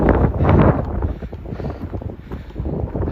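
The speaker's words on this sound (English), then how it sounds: "It's gonna get really, really windy, even more than it is right now." Strong wind buffeting the microphone on a mountain ridge during a trail run on Mt Ascension, a loud, rumbling roar with gusts that swell at the start and keep surging unevenly.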